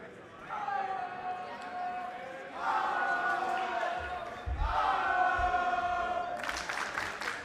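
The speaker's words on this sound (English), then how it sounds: "just listen to this crowd getting into it here already" A college crowd at a national dodgeball championship match roars and cheers in rising waves, with a few thumps and a sharp high burst near the end.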